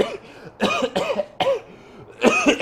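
A person coughs in flu season, four harsh, fairly loud bursts spaced about a second apart, each a rough throaty hack, close to the listener with no talk.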